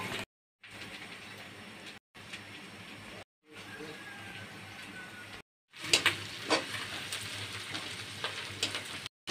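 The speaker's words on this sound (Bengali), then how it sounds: "এদিকে পেঁয়াজ রসুন ভাজা হয়ে গেছে, একদম লাল লাল করে ভেজে নিয়েছি" Onion and garlic frying in a pan for a Pangas fish curry, a soft steady sizzle broken by brief silent gaps, growing louder and crackly near the end, with no talk.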